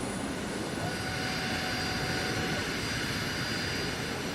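A video-game AI aircraft on a steep, shallow-angled landing approach, its engine giving a steady, loud broadband roar with a faint whine, continuous and unchanging throughout with no talk.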